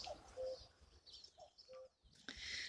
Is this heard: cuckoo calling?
yes